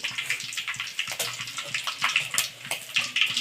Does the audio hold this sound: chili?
no